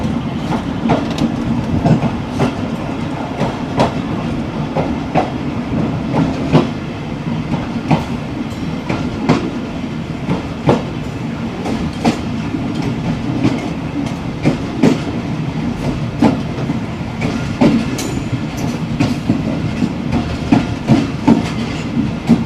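Seen from a Pakistan Railways guard cabin, the train rolls steadily with a constant low rumble and a running patter of wheel clicks and rattles, loud and continuous throughout.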